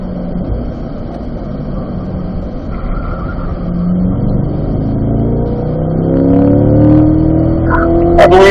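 Race car engine on a track drones steadily as the driver downshifts into third gear for a turn, the engine note rising and revving louder toward the end; no talking.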